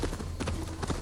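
Horse hooves clip-clop at a quick, steady gallop rhythm in Assassin's Creed Valhalla, close and distinct, with faint game sounds around them.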